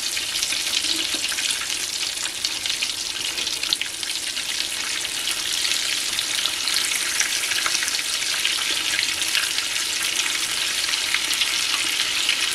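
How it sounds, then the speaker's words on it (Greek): Food fries in a pan with a steady, dense hiss and crackle of hot oil, continuous and close for the whole stretch, with no voices. "Αφήνουμε να τηγανιστούν πολύ καλά από τη μία πλευρά για να μπορέσουμε να γυρίσουμε και ανάποδα"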